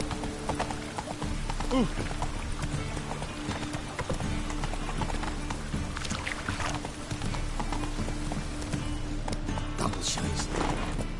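In The Witcher 3, Roach the horse gallops with a steady, close clip-clop that runs throughout, while a person briefly exclaims and talks over it.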